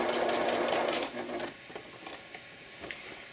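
A sewing machine runs steadily at close range while stitching a bib apron, a fast dense mechanical whir that stops after about a second, followed by scattered light clicks and handling noises.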